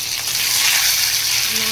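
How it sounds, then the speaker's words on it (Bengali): Ginger paste and chopped tomato hit hot oil tempered with cumin seeds, giving a loud, close, continuous frying sizzle. "তেলের মধ্যে আদা বাটা আর টমেটো কুচি দিয়ে"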